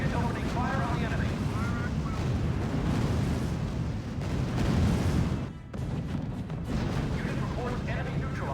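Gunfire and explosions in the strategy game R.U.S.E., a steady roar of distant artillery and booming blasts layered over battlefield noise, with a radio voice speaking in short bursts above it and one brief dip near the middle.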